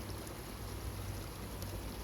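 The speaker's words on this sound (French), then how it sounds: "C'est la deuxième cascade de la Mosson." Steady, dense rush of falling water at the second cascade of the Mosson river, a continuous broadband roar close by with no pauses or voices over it.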